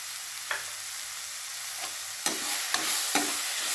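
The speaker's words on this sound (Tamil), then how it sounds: "இது நல்லா வதங்கட்டும்" Guava chutney ingredients fry in a pan with a continuous hiss, broken by several sharp scraping stirs of a spoon, close and clear, no speech.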